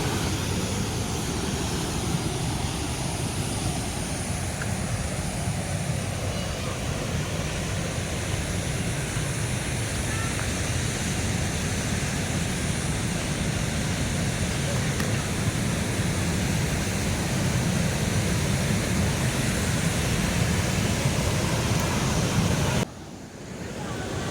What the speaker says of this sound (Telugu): చూడండి మీరు వాటర్ కూడా సౌండ్ వచ్చేసి చాలా బాగా వినిపిస్తుంది కదా వాటర్ ఫాల్స్వి.